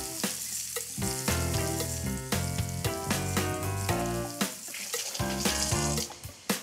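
Sage leaves wrapped in prosciutto sauté in a hot pan, with a continuous crackling sizzle and occasional sharp pops, heard alongside a prominent tonal background sound.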